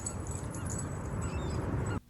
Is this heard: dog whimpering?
yes